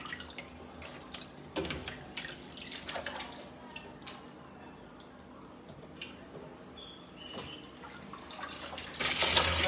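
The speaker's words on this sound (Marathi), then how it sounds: "ती चांगली धुवून घ्यायची वजरी दोन तीन वेळा" Water splashes and drips in irregular bursts as fish is rinsed and handled in a basin, with soft clatter and a louder splash at the end.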